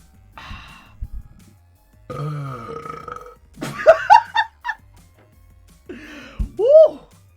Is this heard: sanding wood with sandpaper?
no